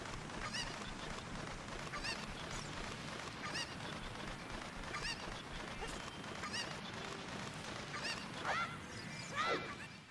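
Cucco chickens in The Legend of Zelda: Ocarina of Time squawk and honk in a few short bursts over steady game background noise, fairly faint, with a louder cluster of calls near the end.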